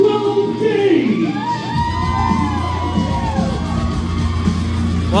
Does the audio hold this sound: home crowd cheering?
yes